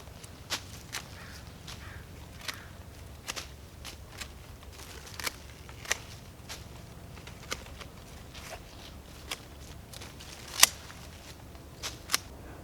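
Pruning shears snip a rose bush in a garden, a dozen or so crisp, sharp clicks at irregular intervals over a quiet outdoor background.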